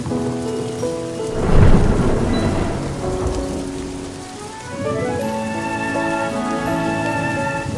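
A rain and thunderstorm in a hill village near Darjeeling: a steady roar of rain on surfaces with a heavy rumble of thunder rolling through early on, and a tonal hum layered over the downpour afterward.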